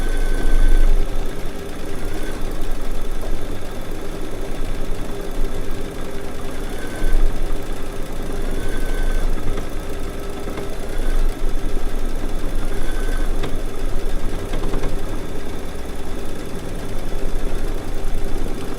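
A Baby Lock sewing machine stitching an edge-to-edge quilt runs with a steady, loud mechanical whir and rapid needle rhythm, continuous and alone for the whole stretch.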